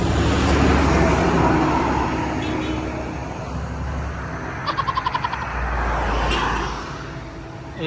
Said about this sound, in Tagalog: maingay talaga yung mga sasakyan